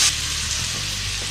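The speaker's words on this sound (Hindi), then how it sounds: "इसे अच्छे से मिक्स कर लेंगे और 2 से 3 मिनट तक मसालों के साथ इसे भून लेंगे।" Lobia and potato sabzi frying with spices in a pan, a steady close sizzle running through the whole short stretch with a brief brighter burst at the start and some low clatter of stirring.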